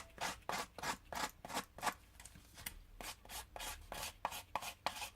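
A pair of scissors scraped repeatedly along the edges of a paper card to age it, giving a close, quiet series of rhythmic rasping strokes, roughly two per second, with no voices.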